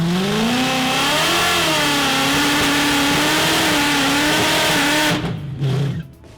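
A 1000hp drag car holds a loud, sustained high-rev burnout at the Mod Nationals strip, engine note wavering steadily for about five seconds before abruptly cutting off and fading.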